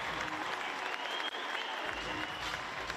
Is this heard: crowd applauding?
yes